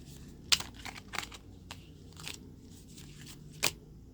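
Tarot cards being shuffled during a reading, a series of soft papery riffles and slaps with a few sharper snaps, close and fairly quiet, no talking.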